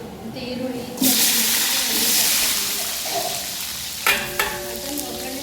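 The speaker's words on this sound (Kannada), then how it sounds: "ಒಂದು ಸ್ವಲ್ಪ ಚಕ್ಕೆ ಲವಂಗ ಏಲಕ್ಕಿ ಒಗ್ಗರಣೆ" Onion with cinnamon, cloves and cardamom crackles and sizzles in hot oil as a kitchen tempering, a loud steady frying hiss with a fresh burst partway through and faint stirring underneath.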